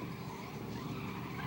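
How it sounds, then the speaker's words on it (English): A 1996 Pontiac Ram Air Firebird slides sideways through dirt corners at the Targa Newfoundland rally, giving a steady, fairly faint rush of engine and tyre noise over a short burst with no clear peaks. "the 1996 Pontiac Ram Air Firebird slides around dirty corners with big fishtails"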